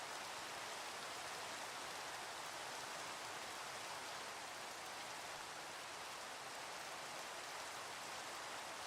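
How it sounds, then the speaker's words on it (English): Steady, faint rain hisses evenly without a break in the Minecraft modpack GregTech New Horizons, a soft constant patter with no talking. "I kind of want to wait for the rain to ease up."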